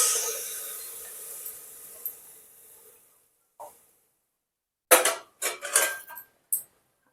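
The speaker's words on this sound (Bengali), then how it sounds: "তো আমি এখানে সেই ছোলার ডালটাকে প্রেসার কুকারের মধ্যে দিয়ে দেবো।" Soaked chana dal tipped into a pressure cooker, heard as a few quick, close rattling clatters against metal after a fading hiss and a short quiet pause, with no one talking.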